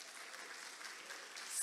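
A crowd applauds steadily, a dense wash of clapping at moderate distance that swells slightly toward the end.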